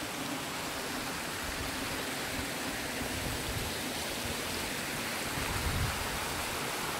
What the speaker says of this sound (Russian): И вот она речка вот так идет.